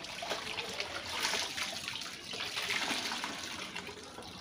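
Clothes are washed by hand under running water: a continuous, fairly soft splashing and trickling stream with small irregular surges, heard alone.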